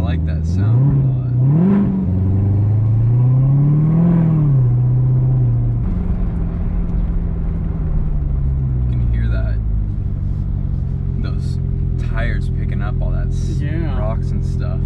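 A Corvette sports car engine revs up and down with a deep, throaty rumble, rising and falling in pitch, while people talk over it.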